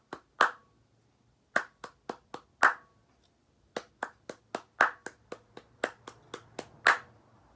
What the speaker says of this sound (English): We're going to start off just by clapping the rhythm.